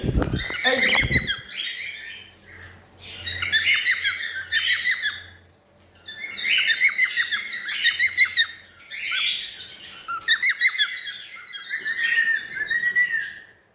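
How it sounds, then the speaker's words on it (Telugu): Several cockatiels in a home flock chirp, squawk and whistle in the morning, repeated bursts of calls close by with short pauses between them. "మార్నింగ్ టైంలో సౌండ్స్ భలే ఉంటాయి అన్ని కాక్టైల్ బర్డ్స్ మంచిగా సౌండ్ పాడుతూ ఉంటాయి"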